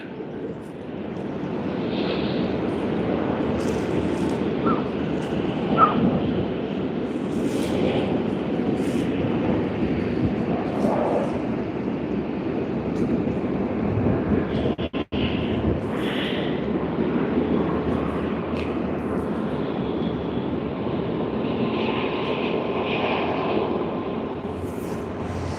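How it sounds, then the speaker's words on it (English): A Qantas Airbus A380 at Sydney Airport: deep, continuous jet engine rumble from a moderate distance, steady throughout with brief faint rises and one short dip, no talk over it. "Qantas's A380, which is a partner of Emirates."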